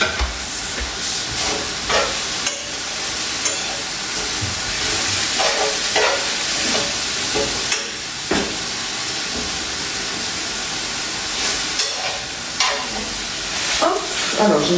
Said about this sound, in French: j'ai mes petits légumes qui cuisent